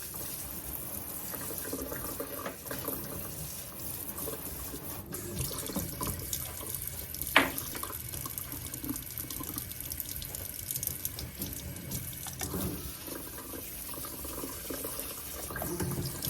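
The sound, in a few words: rinsing a repotted plant under a running tap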